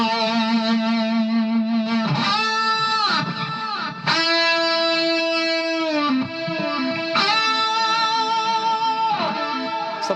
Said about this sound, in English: by messing with the feedback in time, I got a bunch of delays going